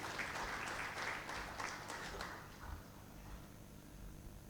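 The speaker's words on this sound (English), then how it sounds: "A big round of applause once again for him." An audience at a conference inaugural session claps in a dense burst of applause that fades away within a few seconds, leaving quiet room noise.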